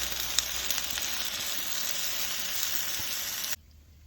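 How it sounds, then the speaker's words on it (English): Garlic bread toasting in a hot pan gives a steady bright sizzle that holds evenly for a few seconds and then cuts off abruptly near the end. "I got the bread warming up, toasting up nicely"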